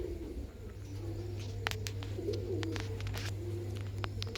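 A racing pigeon coos in low, soft repeated calls, with a steady hum and faint clicks and rustles in the background.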